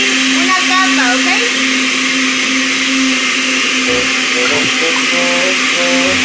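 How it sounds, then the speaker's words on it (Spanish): A kitchen blender whirs loudly and steadily throughout, its motor drone holding even from start to finish, with a few faint clatters and bits of background voice underneath. "Ya para la licuadora."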